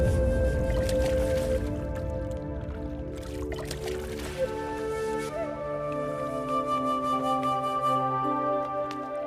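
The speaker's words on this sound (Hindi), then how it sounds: "अब आप इन दोनों घड़ों को पानी में डाल दीजिए।" Two clay pots are lowered into water, giving soft splashes and gurgling sloshes, most noticeable in the middle, under steady sustained background music tones.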